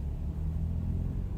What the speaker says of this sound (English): Can you repeat there's car noise?